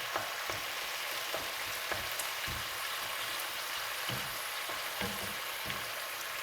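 Cavolo nero and pancetta sautéing in a hot pan, with a steady, close sizzle and occasional crackles and pops throughout, no voices.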